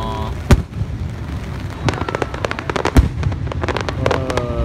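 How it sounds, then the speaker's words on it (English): Fourth of July fireworks bursting in the rain in Philadelphia, a rapid string of sharp cracks and booms, some near and loud, with a crackling barrage building toward the end and people talking faintly. "These fireworks are on point right now."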